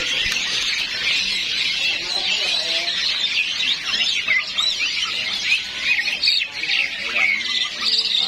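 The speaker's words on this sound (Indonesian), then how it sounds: "yang suka burung ombyokan ada kutilang" A dense, continuous chorus of chirping and squawking kutilang (sooty-headed bulbuls) fills a bird market at fairly loud, steady level, with many calls overlapping and no talking.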